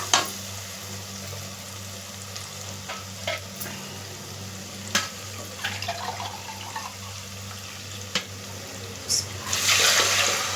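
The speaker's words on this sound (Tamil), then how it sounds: "இப்போ தண்ணி அளந்து நம்ம ஊற்றிக்கலாம்." Measured water goes into a pot of sizzling biryani masala: quiet frying crackle and occasional utensil taps, then a louder rushing pour near the end.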